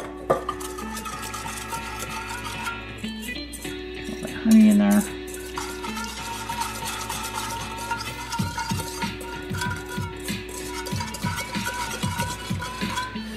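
A whisk clinks and scrapes rhythmically through a marinade with pepper in a bowl, light and close, under steady background music.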